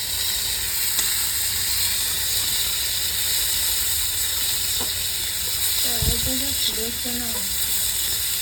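Cumin and raw onion hit very hot oil for a village-style fish curry, giving a steady, close frying sizzle throughout, with a brief faint voice-like sound near the end.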